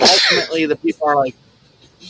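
A single sharp sneeze bursts out at the start, loud and close, followed by a man's speech continuing after it.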